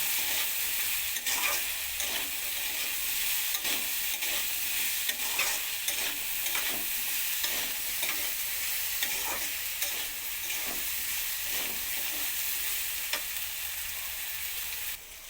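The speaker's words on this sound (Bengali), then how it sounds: "সবজিগুলোকে আমি একসঙ্গে ভেজে নিচ্ছি" Pumpkin, potato and long beans fry with a steady high sizzle while a utensil stirs and scrapes the pan in repeated strokes, close up and without talk.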